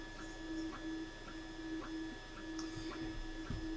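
G-Tech A20M printer running in the background of a workbench, giving a steady low mechanical hum with faint regular ticking at an even rhythm throughout.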